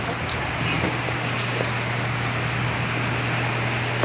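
Light drizzle falls outside and is heard from inside a room as a steady, soft, even hiss. A constant low hum sits underneath it.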